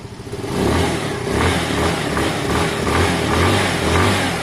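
A Sinnis Harrier 125 motorcycle engine runs steadily with its choke just off, a loud, close, continuous drone with gentle rises and dips in revs, exhaust freshly cleaned and painted.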